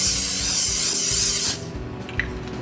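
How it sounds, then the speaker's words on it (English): A spray can of mold release hisses out a continuous, loud, close spray for about a second and a half, used in silicone mold making, then cuts off abruptly. "I do like to give it a good spray with this mold release"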